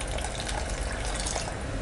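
Water poured into a pot of javvarisi semiya payasam made with milk, a steady close gush and splash lasting under two seconds with no speech.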